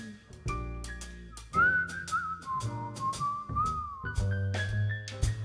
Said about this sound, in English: whistle a little tune